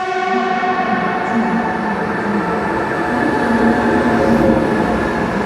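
A train in Saudi Arabia, heading to Medina, rumbles steadily with metallic ringing tones and a faint wheel squeal, a loud continuous roar as it runs along the rails.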